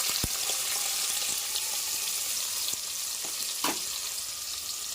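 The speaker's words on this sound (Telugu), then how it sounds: "ఆనియన్స్ బాగా వేగనిచ్చాము" Onions and green chillies fry in hot oil for a Telugu fish curry, a steady soft sizzle broken by a few sharp crackles and pops, close and continuous with no talking.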